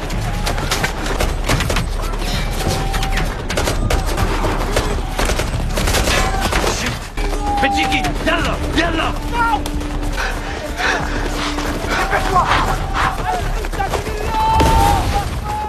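Battle-scene gunfire from the 2022 war film Rebel, dense overlapping shots and bursts crackling continuously throughout with booms, mixed with film soundtrack and voices.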